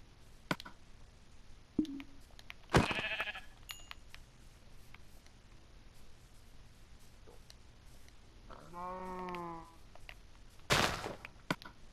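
A single Minecraft sheep bleats once, a short wavering baa amid quiet ambience, with a few scattered clicks and thumps before and after.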